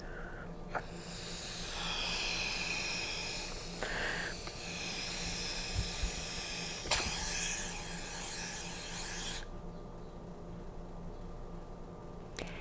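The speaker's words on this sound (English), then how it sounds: "attach a balloon to the end of a bent straw, blow up the balloon, release the straw, and see what happens." Air rushing out of a balloon through a bent straw, a long steady hiss with raspy breathy texture lasting several seconds before cutting off into quieter room noise.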